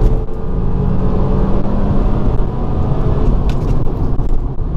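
A Volkswagen Golf GTI Mk5 engine runs loud and close, a dense continuous low rumble with steady revving and no voices.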